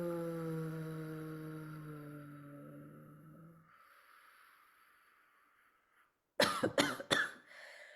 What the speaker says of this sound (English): As I start to tap in, I want to cough.